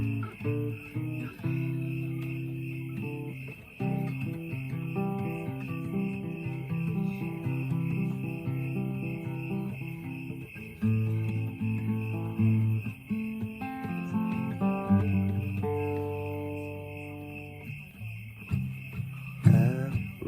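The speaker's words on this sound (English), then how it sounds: "Harmonize with the crickets, yeah." Crickets chirp with a steady high trill running throughout, heard beneath sustained musical tones and chords that dominate in the foreground.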